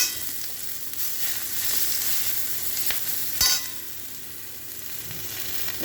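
Garlic frying in a pan, a steady close sizzle with stirring scrapes and a sharp clank of the utensil partway through, no voices.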